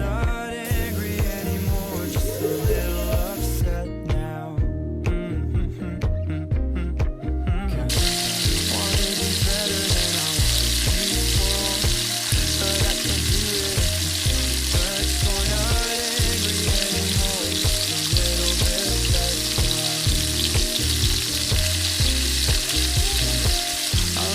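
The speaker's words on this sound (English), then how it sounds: "Then what I do is I saute my lamb for about 4 minutes, 1 minute per side." Lamb sautés in an Instant Pot on saute mode, sizzling loudly and continuously up close for the whole stretch, with a brief quieter dip early on and an even, dense crackle under a faint pulsing hum.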